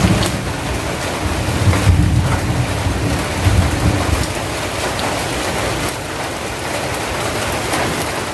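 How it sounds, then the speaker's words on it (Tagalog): Heavy rain pours down outside a small neighborhood sari-sari store, a loud continuous roar of water with surging intensity and a low rumbling undertone, no voices. "bigla pong lumakas ang ulan"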